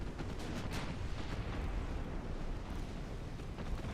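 Torpedo detonation in a naval battleship video game, a loud rumbling, rolling blast with a dense low boom and crackling bursts sustained throughout.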